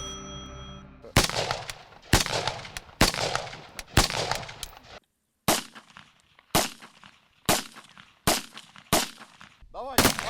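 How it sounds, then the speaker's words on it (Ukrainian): A Kalashnikov assault rifle firing about ten loud single shots at a steady pace, each sharp crack followed by a short echoing tail. "Ми зараз вам покажемо автомат Калашникова, послухайте"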